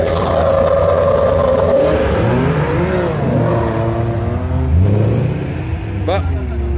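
Car engines rev loudly at a French car meet, sweeping up and down in pitch with a crowd and voices underneath.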